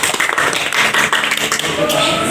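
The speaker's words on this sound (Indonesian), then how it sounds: "Tepuk tangan teman-temannya." A group of classmates clapping in a classroom, a dense patter of hand claps filling the short stretch at close range, with faint voices mixed in beneath.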